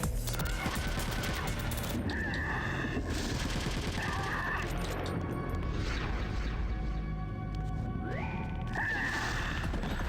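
FAMAS assault rifle fire in the stealth action game Metal Gear Solid: The Twin Snakes, rapid bursts of automatic shots mixed with impacts and clatter, steady and dense across the whole stretch.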